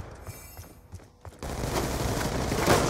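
Gunfire in the Call of Duty Black Ops video game: sparse shots at first, then a sudden dense, sustained barrage of rapid shots and crackling bursts that stays loud to the end, with no talk.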